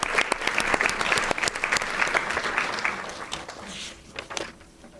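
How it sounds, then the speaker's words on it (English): Loud, dense applause from a school board meeting audience, crisp individual claps close by over a full crowd, gradually thinning and fading toward the end. "can we just give another round of applause to our amazing community"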